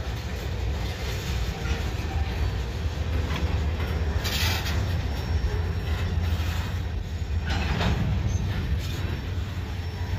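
A train pulls slowly into a yard track during switching moves, with a steady low rolling rumble, intermittent high wheel squeals and faint clicks, heard from nearby without talk.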